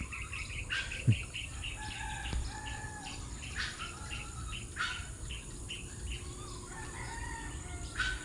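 A rooster crows several times at moderate distance, with smaller birds chirping around it and a faint rustle in the background.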